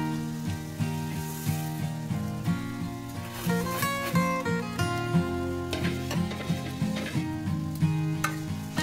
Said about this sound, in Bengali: এগুলো একটু ভেজে নেব।